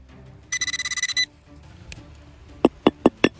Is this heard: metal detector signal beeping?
yes